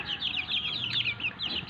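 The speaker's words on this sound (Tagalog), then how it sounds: "Mga sisiw ko mag 1 month na to sa 20." Young chicks, about a month old, kept as backyard poultry, cluck and peep in quick, high overlapping calls that run steadily through the whole stretch over a low background murmur.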